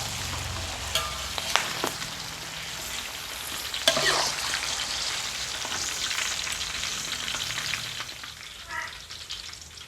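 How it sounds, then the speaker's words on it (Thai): Fresh chilies dropped into hot oil with fried golden garlic sizzle loudly and steadily close by, with occasional stirring scrapes and pops over the hiss. "หลังจากเราเจียวกระเทียมเหลืองแล้ว เราก็ใส่พริกสดลงไป"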